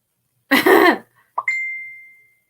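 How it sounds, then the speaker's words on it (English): One harsh, loud cough up close, followed by a brief catch of breath and a fading high tone in otherwise near silence. "having a cough attack"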